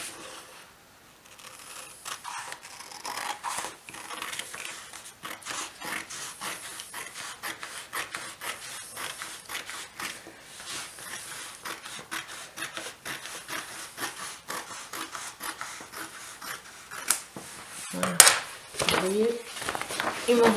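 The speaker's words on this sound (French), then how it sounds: "Donc 38, on découpe ce morceau." A piece of scrapbooking cardstock being cut makes a continuous, close rasping and scraping with small irregular scratches, and a few louder scuffs come near the end.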